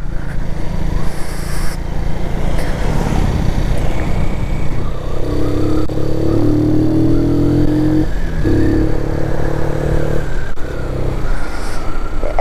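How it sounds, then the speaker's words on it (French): Keeway motorcycle being ridden, a steady loud engine drone with wind noise throughout, the revs rising and holding in a smooth pitched hum partway through. "je cherche un peu de compagnie pour rouler la moto"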